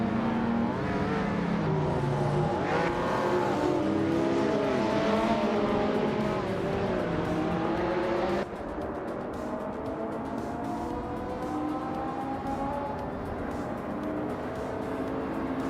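Race cars on the Anderstorp track in a racing game, including a 1983 Porsche 911 930 Turbo, a dense, loud pack of engines revving and rising in pitch together as the field pulls away.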